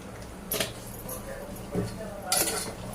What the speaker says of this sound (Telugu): కొంచెం టమాటా మెత్తగా ఉడికే వరకు కొంచెం కలుపుకోవాలి